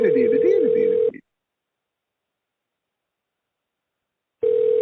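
A telephone ringback tone plays while a call waits to be answered: one loud, steady burst, a long silence, then the next burst beginning.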